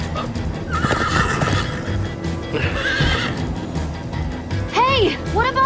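Hooves pound as a horse gallops in the Minecraft Story Mode video game, Episode 5, with loud, close neighs; several repeated whinnies near the end and a voice briefly speaking over the action.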